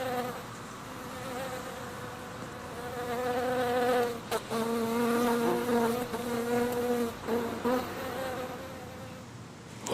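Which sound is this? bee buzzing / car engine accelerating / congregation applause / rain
bee buzzing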